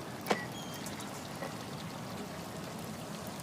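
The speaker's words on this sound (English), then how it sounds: "Sounds like water. Like a burst pipe or something." Water running from a burst pipe, heard as a steady, faint, distant rushing hiss that continues evenly throughout, with one brief click near the start and no voices.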